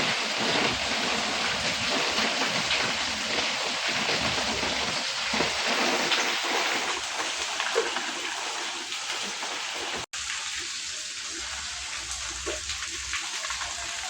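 Heavy rain pours steadily at five in the morning, a dense continuous hiss with water splashing and running, close and loud throughout, easing slightly after a brief cut near the end.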